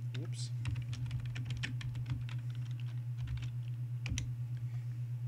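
Computer keyboard typing while entering a network lookup command, a rapid close run of light key clicks over a steady low electrical hum, with a couple of sharper taps near the end.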